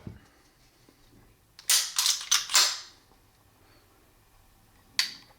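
A Legion pistol being fired off the trigger reset, giving a quick close cluster of sharp cracks and then a single shot a few seconds later. No talk, and quiet in between.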